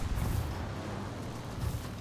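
Explosions during a War Thunder video game battle, heard as a dense low rumbling roar with deep booms near the start and end, fairly loud and without talking.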